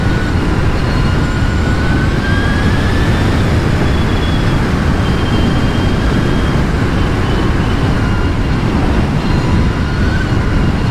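An Energica Ego+ RS electric motorcycle rides along at speed, its faint whine rising and falling beneath heavy, constant wind roar.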